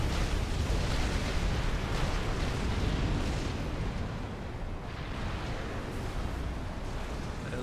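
Explosions and missile hits boom through a Supreme Commander: Forged Alliance battle as point defense, mobile missile launchers and tanks trade fire, a dense, continuous roar of blasts that eases slightly toward the end, with no talk.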